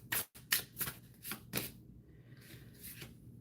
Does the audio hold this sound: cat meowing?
no